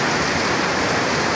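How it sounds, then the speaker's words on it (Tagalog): A heavy downpour in Las Piñas hisses as a dense, constant roar of rain, loud and close, with no voices. "ang lakas ng ulan"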